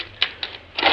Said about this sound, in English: he presses tabulating keys on the control board